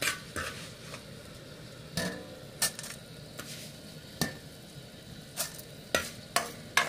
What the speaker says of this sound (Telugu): ఇవన్నీ ఇలా వేయించేసేసుకోండి